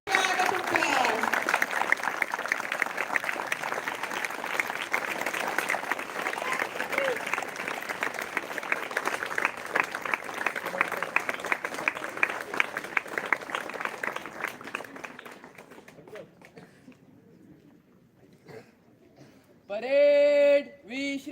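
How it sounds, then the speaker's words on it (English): Audience at a Republic Day celebration applauding to welcome the chief guest, a Commandant; sustained, fairly distant crowd clapping for about fifteen seconds that fades out, followed by a brief electronic tone near the end. "welcome our chief guest, Commandant JGU Bhattacharya sir, with a huge round of applause."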